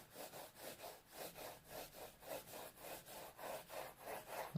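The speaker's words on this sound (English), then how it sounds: "I'll just shade in the road as well." Pencil shading a road on paper in a perspective drawing, quick rhythmic back-and-forth scratching strokes, close and faint, about three strokes per second, alone without talk.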